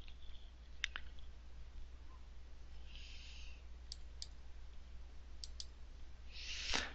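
A computer mouse clicks faintly while working in image editing software, giving a handful of crisp clicks, some in quick pairs, over a low steady hum in a quiet room.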